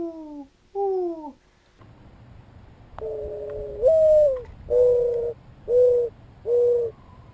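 A Primos dove call imitating a mourning dove's coo: a few soft two-note hoots, a pause, then a series of four or five longer, louder whistled coos in steady rhythm, close and clear against quiet background.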